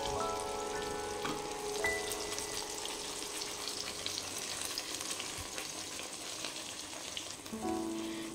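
Spice paste frying in a pan of white oil and butter, a steady close sizzle with stirring scrapes running throughout and no talking.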